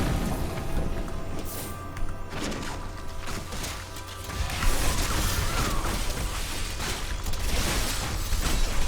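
Molten monsters exploding as they die in Diablo 3 combat: loud crashes and booms pile up over a constant stream of clanking hits and battle noise, and the explosions swell heavier in the second half.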